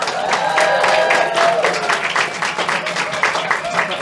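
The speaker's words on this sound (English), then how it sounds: "How about a nice, tell us another one, warm round of applause for Olga Loitsenko" A studio audience gives a warm round of applause to a guest comedian, loud, steady clapping mixed with some crowd noise and scattered voices throughout.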